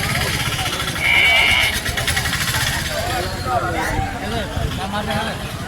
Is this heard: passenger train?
no